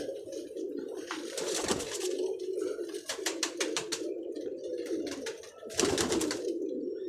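Highflyer pigeons coo softly in repeated low rolling calls nearby, with occasional wing flutters or sharp rustling bursts over the steady cooing.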